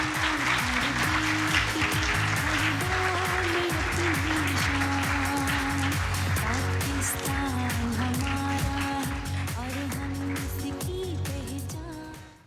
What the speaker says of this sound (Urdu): آپ سب کی زوردار تالیوں میں